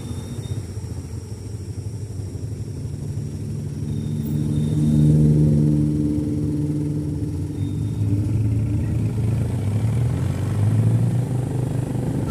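Road traffic of cars and motorcycles on the Kelok 44 hairpin road between Bukit Tinggi and Maninjau: a steady low engine rumble from passing vehicles that swells and fades, with occasional revving, continuous and fairly loud.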